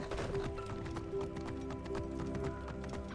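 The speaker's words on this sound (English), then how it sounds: "Hello, horse. Let's go, horse." A horse in Assassin's Creed Origins clip-clops at a quick galloping pace, hooves striking in a steady rapid rhythm with game ambience underneath.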